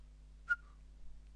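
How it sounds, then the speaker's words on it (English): A person gives one short, bright whistled note that slides slightly downward, alone over a steady low electrical hum during a Fire Emblem game session. "why did I just whistle?"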